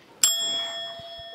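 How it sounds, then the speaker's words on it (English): A hand bell at a children's church service gives a single bright ring that sustains and slowly fades, close and clear, with no further strikes heard. "within those 3 times I ring the bell"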